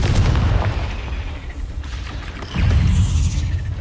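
A Confringo blast from a wizarding video game booms loudly, a heavy low rumble that eases off and then swells again into a second deep explosion.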